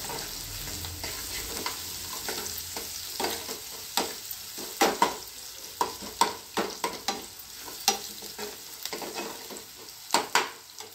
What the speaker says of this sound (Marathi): आपला कांदा थोडासा झाला की याच्यामध्ये लसणाची कूट टाकायची आहे, छान याला मिक्स करून घ्यायचं।